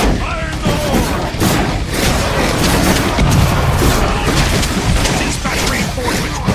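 Grenade explosion amid combat in Werewolf: The Apocalypse - Earthblood: loud, close blasts and crashing gunfire in a dense, chaotic barrage lasting several seconds.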